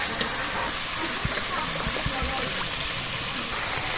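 Village Muscovy duck meat fries dry in a pan with no water added, a steady broad sizzling hiss running throughout with a few faint soft knocks.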